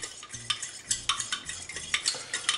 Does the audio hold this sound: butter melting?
yes